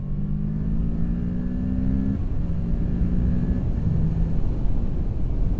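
Kawasaki Ninja 650 motorcycle engine pulls through several gears, rising in pitch, dropping at each shift and climbing again, with a steady rush of wind noise throughout.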